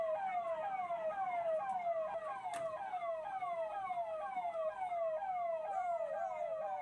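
A fire brigade siren wails steadily at a vehicle fire where parked cars burned on a police outpost's premises in Aligarh, its repeating rising-and-falling sweeps loud and continuous throughout.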